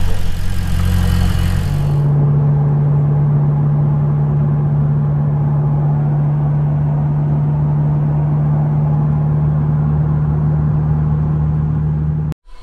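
A Ferrari 488 Pista setting off on a test drive, its engine holding a steady, loud drone after an initial rumble, heard close up with no talk.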